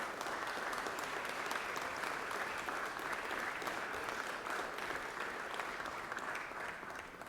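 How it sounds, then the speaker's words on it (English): Steady round of applause in a state Senate chamber during a legislative session, even and continuous throughout before tapering slightly at the end, heard from some distance. "please give them a round of applause where they stand over in the Senate office building now"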